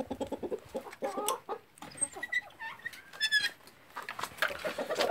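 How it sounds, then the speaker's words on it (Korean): Araucana chickens and roosters clucking close by in a farmyard coop, a busy run of short clucks and squawks with a few higher calls mixed in. "늘 제일 먼저 맞이하는 거는 수탉들이죠. 아유, 얼마나 우렁찬한지."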